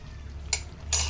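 Chicken curry is sautéed in a pan: two brief scraping strokes of a spoon against the pan over a low, steady background hum, close and moderately loud, with no talking.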